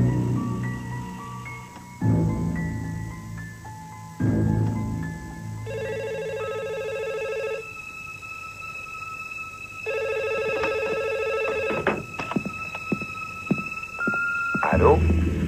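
An old-style telephone rings in a French crime drama, its repeated bell-like bursts spaced a couple of seconds apart, close and clear, with people talking in between and some clattering near the end.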